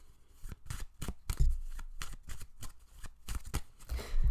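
Tarot cards being shuffled in a steady run of crisp riffling bursts and soft slaps, close and fairly loud, with no talking.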